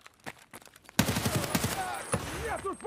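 Video game raid gunfire: a few sharp shots early, then a loud dense volley of rapid rounds with ringing tails and scattered shots after, while players talk over the action.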